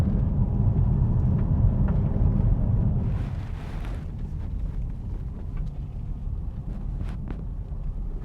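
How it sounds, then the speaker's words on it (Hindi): A vehicle engine idles and runs steadily at close range, a dense low rumble with some wind buffeting against the microphone, on a road trip from Toronto to Alaska, with no voices. "इंजन की आवाज़ तो बिल्कुल ही फर्स्ट क्लास है यार"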